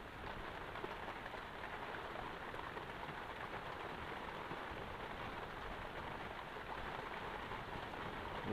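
Steady rain falls outside a garden hut on a farm plot, a dense, even hiss of drops on surfaces that runs unbroken from start to finish with no talk.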